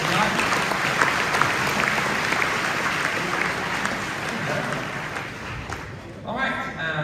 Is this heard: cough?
no